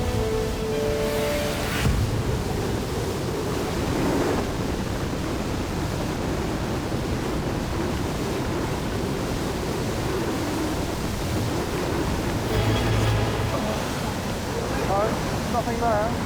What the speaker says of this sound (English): the huge surge that's pulling at our legs under the water